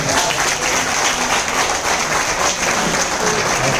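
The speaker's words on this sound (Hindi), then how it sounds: "जोरदार एक बार तालियां हो जाए" Loud, dense audience clapping at a training event in Ahmedabad, a continuous roar of many hands close by, with no voices rising above it.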